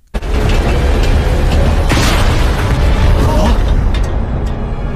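A sudden loud blast erupts into a sustained roaring rumble with crackling debris, close and intense, fading slightly near the end.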